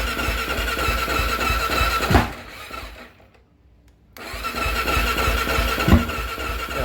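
A small engine on a homemade toy vehicle, cranked by jumping the starter solenoid, churns and sputters without catching, popping with a sharp backfire near the start and again near the end, with a near-silent pause in the middle.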